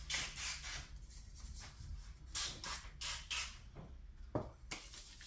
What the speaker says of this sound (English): I've got to spray my hands